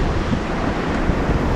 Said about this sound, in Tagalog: kung maririnig niyo yung alon, yung bagsak ng ano, yung bagsak ng tubig. Ang lakas ng hangin